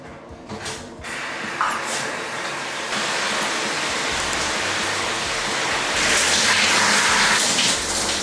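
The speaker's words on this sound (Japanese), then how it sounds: "今からちょっとシャワーをね浴びてこようと思います" Shower water running steadily, a continuous hissing spray that swells louder partway through, close and alone without talk.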